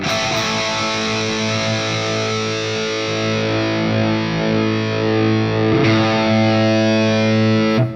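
Distorted electric guitar through a Fractal amp modeler with a Soldano X88-style preset and a Dynacab dynamic mic, playing sustained, thick chords loud and steady with a fresh re-strike near the end, no talking.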